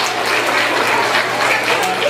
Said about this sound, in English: let's give them one big round of applause to all these veterans